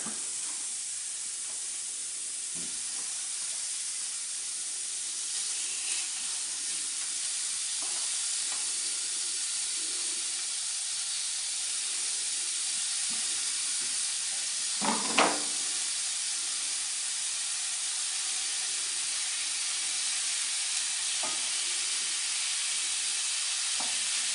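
Homemade bulk Italian sausage meat fries in a fry pan with a constant, even hissing sizzle, steady and close, with occasional soft scrapes and small pops as it is moved around.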